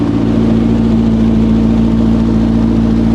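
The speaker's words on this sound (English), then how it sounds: "Looks like it's idling all right." A rebuilt McLaren engine idles close by, a loud, steady low-pitched drone with an even pulsing rhythm and no other sounds over it.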